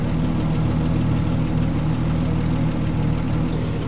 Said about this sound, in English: what a sweet engine this is. It's got a lovely purr to it and the exhaust note is just beautiful.